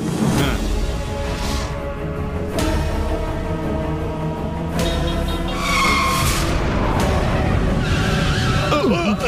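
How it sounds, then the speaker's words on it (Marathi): A car braking hard on a road in a Marathi TV drama scene, a sustained tire squeal and skid over engine and dramatic music, with voices talking. "अरे एवढा जोरात का ब्रेक मारला?"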